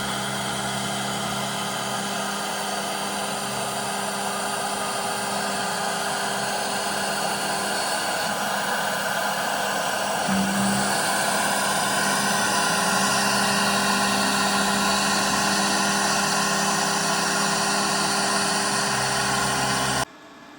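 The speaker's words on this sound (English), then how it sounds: "we're about 40 minutes into the cutting now, and we're just doing the outer profile" A Carvera Air desktop CNC mills the outer profile of a clock flywheel, giving a steady, dense machining whine with a constant tonal hum throughout, close and unbroken for the whole stretch.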